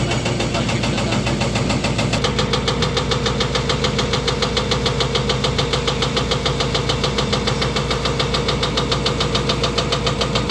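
A hydraulic breaker on a Volvo 210 excavator hammers in rapid, even, loud blows over a constant engine drone, the pounding continuing without pause.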